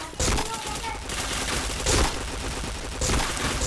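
Rapid bursts of automatic gunfire in a first-person shooter match, loud and close, with sustained volleys and brief gaps as a player's voice speaks over the shots.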